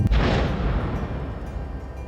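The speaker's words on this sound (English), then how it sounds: "the mighty booming thunder of the explosions happening inside of that volcano every few minutes" A volcanic explosion at Mount Yasur sends a deep boom that rolls out from a sharp onset into a long rumbling decay. It is heard alone and from some distance.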